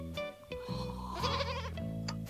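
A domestic goat bleats loudly and close in a long wavering cry, rising and breaking partway through, with no talk.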